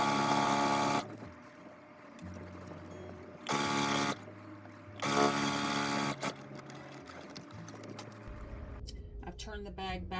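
A sewing machine runs in several bursts while stitching around the top of a lined drawstring bag, loud and close, each steady whir starting and stopping with pauses between, and a person talks over parts of it.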